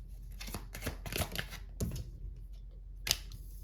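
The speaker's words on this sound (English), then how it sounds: "I shuffled the cards, guys." Tarot cards are riffled and shuffled in quick bursts of crisp snapping clicks, followed by a pause and one sharp final tap.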